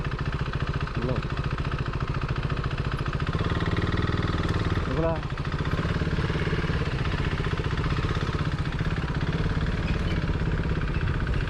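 A Hero Xpulse 200 4V motorcycle engine runs steadily at a low, even drone, with a brief rev near the middle and a couple of faint tonal sweeps, while voices talk over it.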